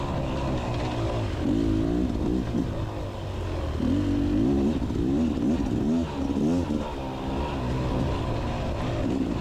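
A Beta Xtrainer 300 dirt bike rides through a hare scramble course toward the parking area, its two-stroke engine droning and rising and falling in pitch as the throttle changes, loud and close throughout.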